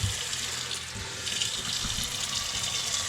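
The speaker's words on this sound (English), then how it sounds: "Put the shrimp shells and some water in there." Tap water pours steadily into a cooking pot holding shrimp shells in a home kitchen, a continuous close splashing rush with a low gurgle and no talking.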